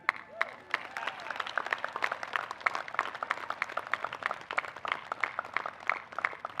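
Scattered, uneven clapping from a graduating U.S. Coast Guard Academy class at its 140th commencement ceremony, moderately loud and sustained with sharp individual claps, not a full roaring ovation.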